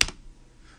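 A single sharp keystroke clacks once on a computer keyboard, close and clear, then fades into quiet.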